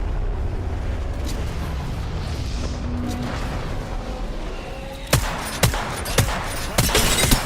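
Video game gunfire: after a stretch of low ambient rumble, a rapid series of sharp, loud shots rings out close by, several in quick succession with no talk.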